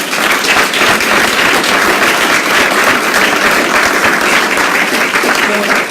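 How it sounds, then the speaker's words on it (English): Steady, loud applause from the crowd at a solar-array ribbon cutting, greeting three representatives of a local solar company; dense continuous clapping holds evenly for the whole stretch. "Let's give them a round of applause."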